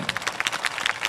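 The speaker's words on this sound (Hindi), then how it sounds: "खुदावन के लोगों तालियां बजाओ" A church congregation at a prophetic ministry service clapping their hands, a loose rapid patter of many claps at moderate distance, fairly busy and continuous without a clear shared beat.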